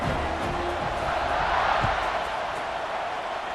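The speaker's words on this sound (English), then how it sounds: "this crowd is buzzing after that last score" A football stadium crowd keeps up a steady, dense buzz and roar after a touchdown, broad and distant-sounding, with faint speech mixed in.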